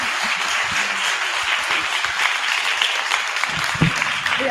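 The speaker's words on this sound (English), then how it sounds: "So a big round of applause, please." Sustained, steady applause from a forum audience at a policy event on private schools and tax, dense clapping filling the room for several seconds with a faint voice near the end.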